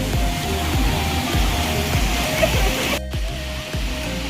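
Waterfall at Harishankar temple pouring steadily, a continuous broadband rush with deep low rumble, loud and close, with a brief dip in the middle.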